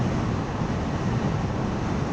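Steady, rushing wind noise buffets the microphone throughout, a continuous low roar with no voices.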